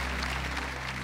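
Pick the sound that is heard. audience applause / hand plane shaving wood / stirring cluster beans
audience applause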